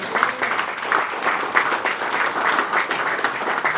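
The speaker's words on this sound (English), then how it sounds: "Can we give a clap of thank you, man?" Sustained applause from a crowd, a dense even patter of many hands clapping at steady loudness throughout.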